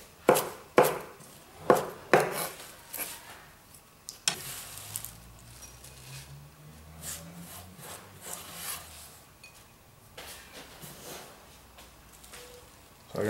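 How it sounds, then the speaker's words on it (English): A knife roughly chops a handful of rocket leaves on a board with several close, crisp strikes at the start, then thinner, scattered taps over a low background hum. "I've got a good handful of rocket here and I'm just going to roughly chop that"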